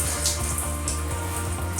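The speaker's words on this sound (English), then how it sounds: "Oh, just spray water all over the bathroom. Come on, shower." A shower head sprays steady running water in a bathroom while hair is being rinsed of conditioner, a constant close hiss with a low hum underneath.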